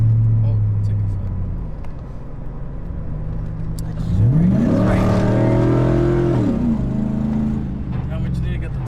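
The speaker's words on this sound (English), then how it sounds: "tires are burning out without even fucking doing a burnout" A truck with a newly fitted cold air intake revs hard, its engine note rising and falling in loud sweeping surges with a roaring, tire-scrubbing edge; voices talk over it.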